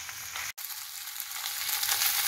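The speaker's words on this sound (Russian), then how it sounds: "Так замечательно шкварчит на сковородке" Rabbit pieces fry in a pan as steady, close sizzling and crackling hiss that barely stops, with no voices over it.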